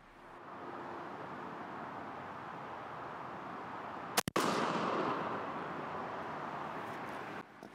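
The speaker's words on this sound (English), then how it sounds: "All the TSS loads we're going to use are 9-shot, and we're going to be shooting them at 40 yards." A 20 gauge Winchester SXP pump shotgun fires a single Fiocchi Golden Turkey TSS load of 9-shot outdoors at a 40-yard target. One loud, sharp blast stands out over steady wind and background noise.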